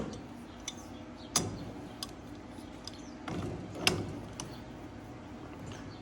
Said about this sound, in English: take a wrench and spin this nut, come up a little bit.